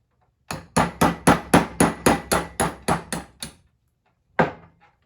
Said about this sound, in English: take out our extractor pin. So we're gonna take our 3/32 punch